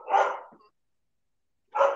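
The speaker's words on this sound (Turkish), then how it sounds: "Arkada köpek havlıyor." A dog barks twice in the background of a home podcast recording, two short, moderately loud woofs separated by a silent gap of over a second.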